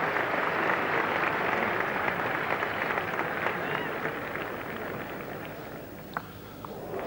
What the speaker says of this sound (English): that's brought an immense cheer from this crowd